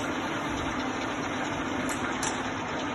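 A small 675P milling machine runs with its spindle turning without a cutter and its power feed moving, making a steady, close mechanical whir and hum with faint higher whines throughout.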